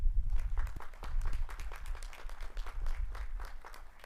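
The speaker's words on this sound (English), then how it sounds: "let's give them a round of applause to express your gratitude" Faint graduation-ceremony applause from an audience thanking custodial staff, a dense spatter of clapping carrying on at low level for several seconds, heard from a distance.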